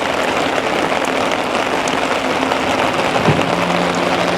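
Steady rain falls at Buntzen Lake, a constant even patter of drops with no talk over it.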